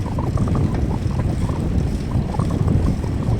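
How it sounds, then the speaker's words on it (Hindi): Cold wind rushes across the microphone while cycling along the NH44 highway between Kurukshetra and Nilokheri, a constant low buffeting roar with no voices. "आज जो ठंडी हवा चल रही है"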